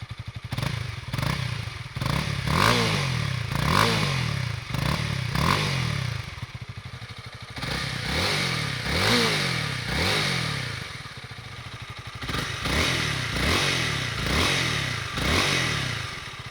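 A stock-exhaust 2022 Honda Rebel 300 motorcycle starts up and idles nearby, its engine rising and falling through a series of revs with a rhythmic, throbbing exhaust note and some mechanical clatter.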